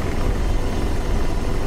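A helicopter lifts off in the DCS combat flight simulator, its loud, dense rotor and turbine rumble steady and close throughout, heavy in the low end with no break.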